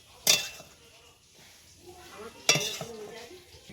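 Potato singara filling being scooped out of a cooking pan, two sharp metallic clinks of a spoon against the pan with soft scraping between them.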